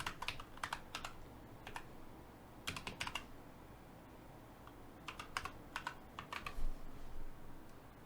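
Someone types a password on a computer keyboard, sharp close key clicks arriving in quick bursts separated by short pauses, with no talking.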